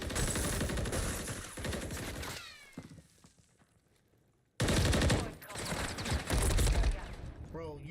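Rapid automatic gunfire from the Warzone video game comes in dense bursts, pausing briefly before another loud volley, with players talking over the shooting.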